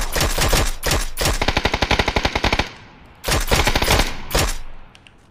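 Loud, close machine-gun fire in a shooter video game comes in rapid automatic bursts, with one long rattling volley in the middle, a short pause, and then more bursts that fade at the end.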